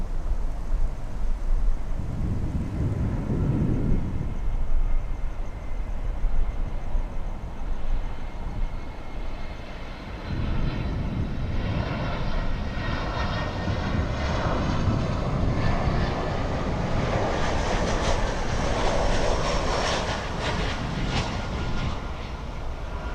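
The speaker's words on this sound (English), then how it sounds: "an unforgettable landing by our good friend FOJ" Lufthansa Boeing 747 on arrival at Miami International Airport, a steady, distant jet engine roar that builds and thickens midway as the airliner comes in, with no voices.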